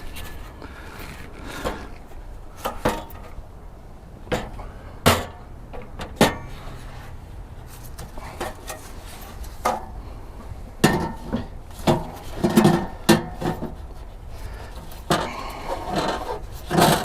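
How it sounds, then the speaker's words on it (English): A radiator on a Bobcat T300 skid-steer loader being slid back into place, with irregular metallic clunks, knocks and scraping bumps spread throughout, some louder thuds standing out close by, with no talking. "now I'm just going to slide the radiator back into place here."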